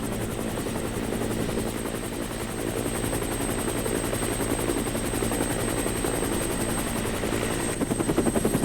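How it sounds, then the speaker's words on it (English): A helicopter flying over kitesurfers drones loudly and steadily throughout, its rotor chop thickening near the end as it sounds closer. "What I'd like to do is see if I can get the helicopter lower than the kites"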